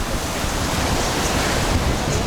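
Ocean surf at the beach in Playa del Carmen, a loud continuous wash of breaking waves mixed with wind noise, steady and close, with no one talking.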